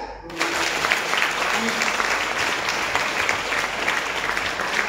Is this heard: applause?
yes